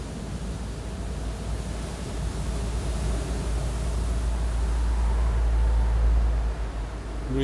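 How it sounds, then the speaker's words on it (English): Ocean waves wash steadily onto a shore in a continuous broadband roar, swelling slightly louder toward the end, with no voices present. "Waves are bigger today."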